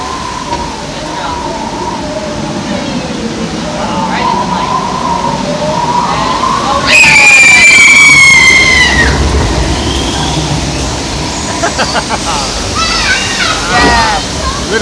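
A log ride boat at Knott's Berry Farm rumbles along a flume past a waterfall, with rushing water, mechanical clatter and a high squeal, loud and close under excited riders' talk and cheering.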